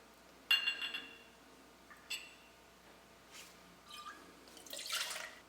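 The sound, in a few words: pouring coconut rum for lava flow cocktail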